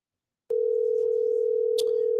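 A telephone dial tone begins abruptly after a brief silence and holds steady and loud through the rest, with a short click near the end.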